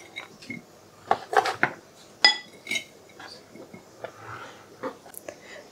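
Aloo chaat being served onto a plate, quiet scattered clinks and taps of a spoon and dishware in short irregular bursts, with no voices.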